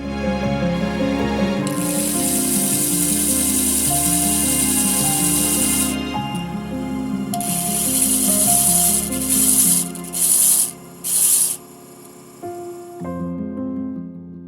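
An onyx d20 is faceted on a 240 grit lap. A motor hums and whines steadily under gritty rubbing, with bursts of hissing abrasion that rise and fall near the end.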